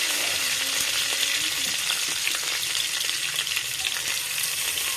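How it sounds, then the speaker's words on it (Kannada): Curry leaves frying in hot oil for dal sambar, a dense continuous crackling sizzle close by with occasional light stirring. "ಕರಿಬೇವು ಹಾಕ್ಕೊಂಡು ಚೆನ್ನಾಗಿ ಅದನ್ನು ಫ್ರೈ ಮಾಡ್ಕೋಬೇಕು"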